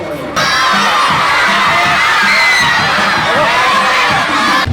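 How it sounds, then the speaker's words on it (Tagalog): Loud, sustained cheering and shouting from a crowd of students catching sight of Mayor Zamora at a school handout of free rubber shoes and P.E. uniforms, excited voices overlapping continuously with rhythmic chanting underneath. "Hindi na napigilan ang mga hiyawan ng mga estudyante nang masulyapan na si Mayor Zamora"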